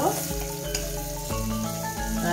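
A large chopped onion sautéing in a pan sizzles steadily up close, with occasional soft stirring knocks over a background of music.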